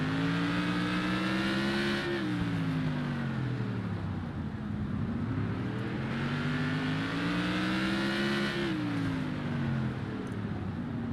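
Race cars in a racing video game lap the LA Coliseum track, engines whining up through the gears and dropping on shifts in repeating surges, loud and continuous with no talk.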